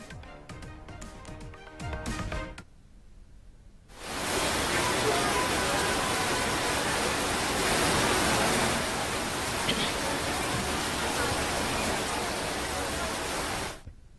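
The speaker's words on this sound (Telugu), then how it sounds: "హైదరాబాద్ నగర వ్యాప్తంగా అర్ధరాత్రి తర్వాత భారీ వర్షం కురిసింది." Heavy rain pouring in Hyderabad after midnight, a dense, loud, continuous hiss of downpour lasting about ten seconds, preceded by a brief stretch of other broadcast sound before the rain begins.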